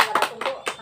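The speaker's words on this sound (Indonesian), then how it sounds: "Kasih tepuk tangan dulu." Children in a classroom clap their hands together in a few quick, close, uneven bursts during a lesson.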